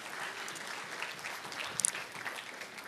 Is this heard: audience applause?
yes